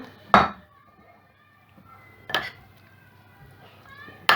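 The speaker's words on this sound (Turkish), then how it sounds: "karıştırıyorum ki bütün lezzetler buluşsun makarnayla." A spoon knocks against a pot while bulgur pasta is stirred with sauce, three sharp metallic clanks spaced about two seconds apart, close and fairly loud over a quiet kitchen background.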